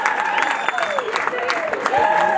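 A wedding crowd breaks into loud, sustained applause, dense clapping that stays close and heavy, with a few voices calling out over it.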